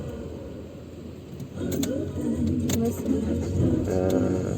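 A car engine cranking and catching during a driving lesson, a rough rumble that swells about halfway through and keeps running close by, with faint voices in the cabin.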